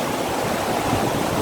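Tad Yuang waterfall near Pakse in southern Laos, a steady broadband rush of falling water that stays constant throughout, with no voices.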